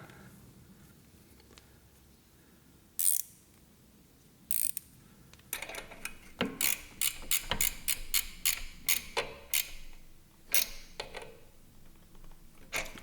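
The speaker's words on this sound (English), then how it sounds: "Ratcheting spanners, best things ever." Ratcheting spanner clicking while tightening aluminium turbo lines on a Nissan S13 Silvia, with a couple of isolated clicks first, then a fast run of sharp, close ratchet ticks in quick bursts.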